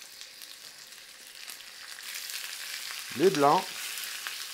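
Chicken thighs sizzle as they brown in olive oil in a pan, a steady close frying hiss that swells near the end while a voice briefly speaks over it.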